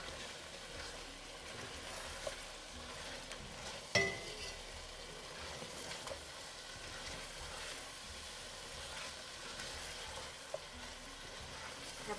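Ground chillies and spices being stirred in a frying pan give a steady, even sizzle with soft scraping running throughout, one sharper knock partway through, and no voices.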